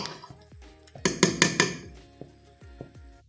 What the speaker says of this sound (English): I'm just using my fork to fluff out the rice